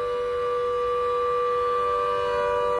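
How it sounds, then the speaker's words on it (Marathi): A civil defense warning siren sounds during a test in Pune, holding a steady, loud wail from start to finish before cutting off abruptly at the end. "पुणे शहरात नागरी संरक्षण दलाकडून सायरनची तपासणी करण्यात आली."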